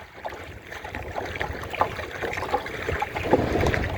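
Gusty wind rushes over open water at sea, heard from a small boat, with irregular splashes and lapping waves rising and falling against a low rumbling background.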